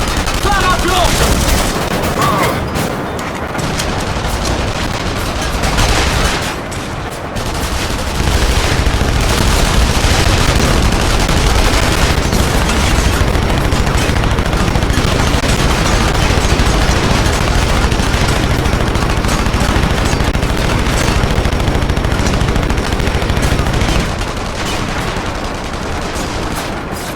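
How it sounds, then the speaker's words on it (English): Heavy gunfire in the 2009 PC game The Saboteur, with sustained bursts and machine-gun volleys roaring continuously, loud and near, with occasional booms mixed into the fight. "The shooting started."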